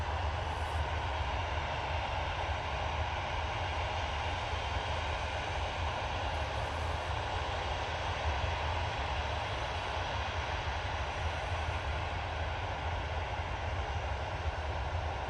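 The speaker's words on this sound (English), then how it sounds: "Right, TUI. Ready to go. Using a 737-800 off to Antalya." TUI Boeing 737-800 jet departing Manchester Airport for Antalya, a steady low engine rumble and hiss held throughout at a moderate distance, with no voices over it.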